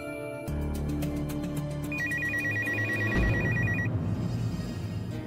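A telephone rings with a repeating electronic trill, close and clear, over low background hum and scattered clicks, with no talking.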